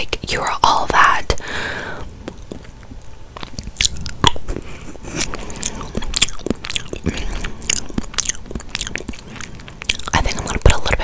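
Close, intimate ASMR mouth sounds of pretend biting and eating, with soft whispering at the start followed by a steady run of wet clicks, nibbles and crisp smacks at an irregular pace.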